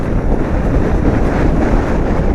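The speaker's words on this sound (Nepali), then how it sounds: "हावा नि यस्तो डेन्जर चलिरहेछ है, बाइकै हल्लिरहेछ कि हावाले गर्दा" A strong gust roars steadily and loudly across a motorbike on a road near Pokhara, buffeting it in a dense, unbroken rush for the whole stretch, with no voices.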